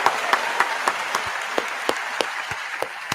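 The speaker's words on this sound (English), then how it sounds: "Can we get yeah, some round of applause." A small group gives a brief round of applause, sparse scattered claps with distinct sharp individual hits ringing out at a steady, slightly uneven pace, fairly close.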